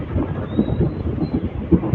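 Hubballi Express passenger train rolling into Lingampalli station, a low, continuous rumble of wheels and carriages with faint rhythmic clatter, steady and moderately loud.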